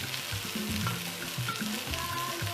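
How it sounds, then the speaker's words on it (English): Spring onion tumbles into a cabbage stew with gizzard frying in a pot, giving a steady close sizzle with repeated stirring scrapes and clinks throughout, no talking. "At this stage, I'm going to add my spring onion."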